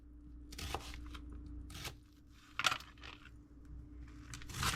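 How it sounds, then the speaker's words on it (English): A knife dices an onion on a cutting board in a home kitchen, giving a few sharp, spaced chopping clicks and taps, quiet and close, with pauses between strokes. "you can dice the onion up any old kind of way you want"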